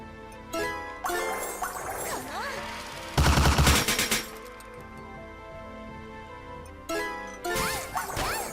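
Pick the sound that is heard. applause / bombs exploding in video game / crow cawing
bombs exploding in video game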